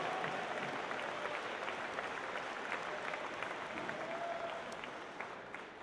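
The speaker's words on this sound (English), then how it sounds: "let's give all of our adult mentors and folks a round of applause" Sustained audience applause fills a large venue at a 2019 FIRST robotics district competition opening ceremony, honoring adult mentors, with dense steady clapping and crowd noise throughout, fading slightly toward the end.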